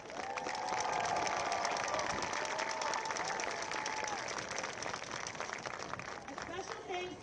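A stadium crowd at a high school football homecoming applauds the 2023 Homecoming Chorus, steady distant clapping and cheering that sustains throughout, with a voice carrying faintly over the noise.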